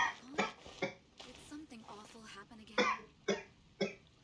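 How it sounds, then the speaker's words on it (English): A person coughs several times in short, sharp bursts spread unevenly over a few seconds, close to the microphone, with brief vocal sounds between them. "I was just coughing."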